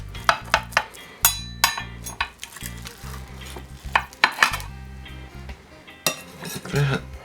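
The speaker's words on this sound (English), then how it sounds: "Let's get some of the casserole on our dish." Tater tot casserole scooped from a baking dish onto a plate, with repeated metal utensil scrapes, clinks and soft thuds close up, irregular and fairly loud, no talking.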